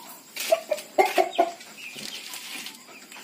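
Rhode Island Red chickens cluck in a short burst of several close, fairly loud calls, followed by softer scratchy rustling.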